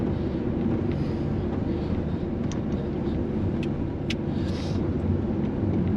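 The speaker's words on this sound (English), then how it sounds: "The car coming up on this second." A car rolls along a road near moorland and woods at night, a steady broad rumble mixed with wind buffeting, holding roughly level rather than rising and fading, with no talk.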